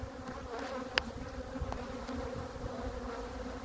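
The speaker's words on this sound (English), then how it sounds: "Proper aggressive bees these are" A swarm of aggressive Africanized honey bees, disturbed during removal from a house, makes a continuous close buzzing. One sharp tap stands out near the start.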